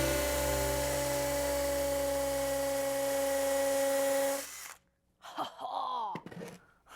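A hammer drill whines steadily and loudly for about four seconds, then stops abruptly, followed by groaning, gasping vocal sounds.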